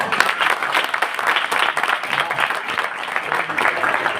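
Loud, dense applause from a kirtan audience honouring a youth yoga group, continuous clapping throughout with a faint murmur of voices mixed in.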